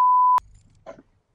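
A single loud steady censor bleep tone lasts about a third of a second, cutting off sharply, followed by faint low room noise and a brief muffled voice fragment.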